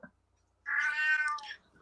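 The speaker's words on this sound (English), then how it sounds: "Your kitty's saying something." A cat gives a single clear, drawn-out meow, close and fairly loud, in an otherwise quiet room.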